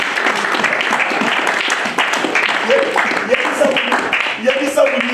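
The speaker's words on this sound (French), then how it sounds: "Est-ce qu'on peut acclamer le Seigneur?" A church congregation claps and applauds to acclaim the Lord, with dense, sustained applause mixed with voices calling out over it.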